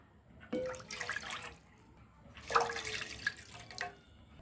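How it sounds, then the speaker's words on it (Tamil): Water pours into a cooking pot in two bursts separated by a short pause, a close splashing gush that rises and trails off. "இதில் வந்து நம்ம மூணு கப் அளவுக்கு தண்ணி சேர்த்துக்கலாம்"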